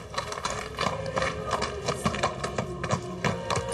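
Horse hooves gallop in a steady clip-clop rhythm under a radio jingle sound effect, with music carrying throughout at moderate loudness.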